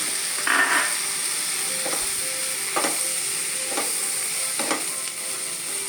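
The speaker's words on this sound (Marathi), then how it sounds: "अराउंड 5 मिनट्स तुमी मातशें तें बरें फ्राय जावं दितें सॉटे करे" Goan dried prawn kismur sautés with tamarind pulp in a pan, a steady close sizzle broken by several brief scraping stirs of a spoon at an even pace, with no talking.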